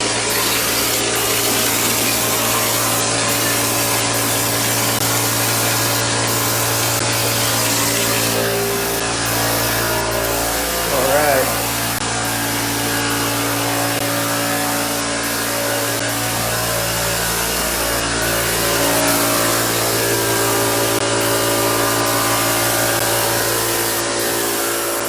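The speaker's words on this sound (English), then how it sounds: "I'm going to try to run you past the spray gun here, a little hopper" A steady, loud mechanical drone of a plaster texture spray gun with hopper running continuously in a house room, with a constant hum and hiss and brief ticking sounds.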